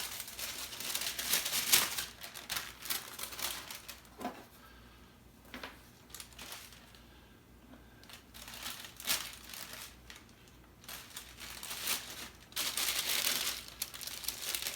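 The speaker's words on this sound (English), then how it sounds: "I'll use little wax paper bags." Small wax paper bags, about five by seven inches, used for making bee pollen patties, crinkle in several bursts of crisp rustling separated by quieter pauses, close up.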